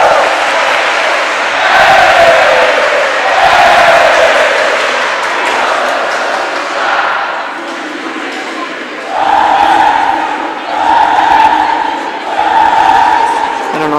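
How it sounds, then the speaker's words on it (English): A crowd of Gustavus fans singing the Gusty Rouser school song in the packed seating at a college swim and dive meet, loud and sustained in repeated phrases with brief dips between lines. "here's the Gusty Rouser being sung by the Gusties"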